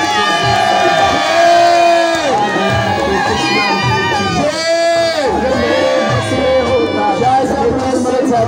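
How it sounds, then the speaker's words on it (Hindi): Crowd cheering and shouting at a by-election corner meeting in Pakistan, a loud, continuous roar of voices with whoops, with a voice over it. "भरपूर तालियों से इनका इस्तकबाल कीजिएगा।"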